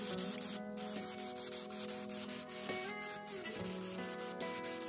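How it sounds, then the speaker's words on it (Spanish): Steady, continuous rubbing and scraping of 220-grit sponge sandpaper against wood, close and fairly loud, with no talking. "estoy utilizando una lija esponja del grano 220"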